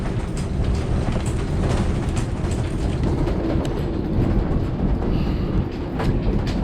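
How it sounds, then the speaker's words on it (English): Strong wind of over 40 knots blowing across a sailboat at anchor in Hobe Sound, Florida, a loud, steady, dense roar that surges slightly and never lets up. "It's been blowing like this pretty much all last night."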